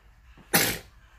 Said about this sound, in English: Here's a little sneeze for you.